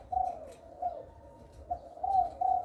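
A caged spotted dove gives soft, low repeated coos in short phrases, fairly close, alone against faint background rumble.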